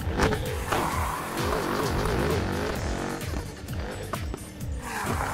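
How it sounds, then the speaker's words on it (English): Revving car engine in the Need for Speed Heat racing game, with repeated rising and falling gear sweeps, loud and continuous, and tyre noise mixed in; the turbo blow-off hiss is not clearly picked out. "all the turbo blow-offs have the same exact sound effect"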